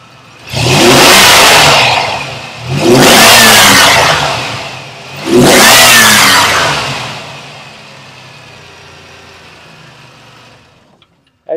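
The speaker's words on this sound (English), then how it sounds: "So go ahead and rev it up." Three loud, rising revs from a 1995 Chevrolet Camaro convertible engine, each swelling and falling back, close by, then settling to quiet.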